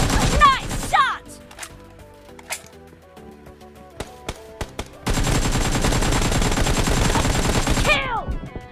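Gunfire in PUBG played on an Asus ROG 6 phone: loud bursts and single shots, scattered pops, then a sustained rapid automatic volley that ends in a sweeping effect.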